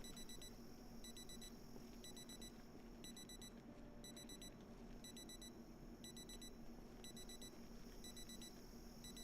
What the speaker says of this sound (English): I thought we disabled the alarm. Why did it go off again?